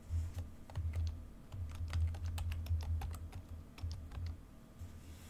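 Quick, irregular keystrokes clatter on a computer keyboard, close and soft, in short runs with brief pauses over a low background hum.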